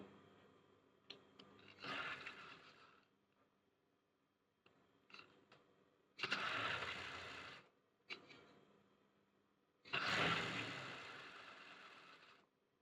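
A sewing machine stitching blouse lining fabric runs in short bursts, a few brief runs followed by two longer whirring passes, close and fairly quiet with pauses between.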